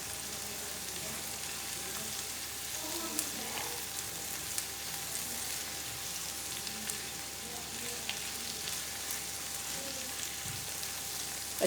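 Potatoes and onions crackle and sizzle steadily in a frying pan for an omelette, with occasional soft stirring scrapes over the continuous hiss, close and moderately loud.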